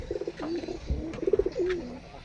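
Home-kept pigeons coo in short, repeated throaty phrases, fairly close and clear, with no one talking over them.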